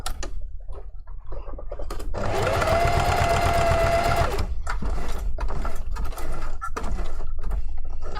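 A sewing machine stitches straight lines across a puffy fursuit hand paw in one steady, close burst of about two seconds, with softer mechanical clicks and handling noises before and after.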